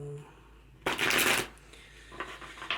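A deck of tarot cards is riffled close up during a reading: one strong, papery shuffle burst lasting about half a second, then a few lighter card flicks trailing off, with no talk.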